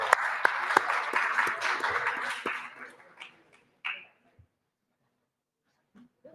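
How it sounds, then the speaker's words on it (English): Applause from a conference audience at a European Jewish gathering after a speaker is introduced: a dense, steady clapping for about three seconds that then thins out and fades into near silence, with a few scattered claps afterward. "Big applause for Mr. Daroff."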